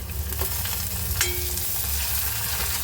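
Half an onion frying in a pan, a dense continuous sizzle with a low rumble and one or two faint clinks, steady and close, no voices.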